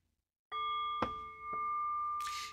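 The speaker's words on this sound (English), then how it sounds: "And by the sound of the bell," A bell rings with a sustained bright tone, struck twice more so the ringing swells, then a brief hiss near the end.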